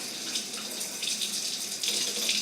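A spoon rinsed under a running tap, with a steady close hiss of flowing water and faint splashing across the whole stretch.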